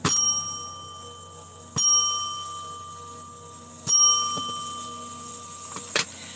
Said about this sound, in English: I need to do the bell because I was just told to do the bell.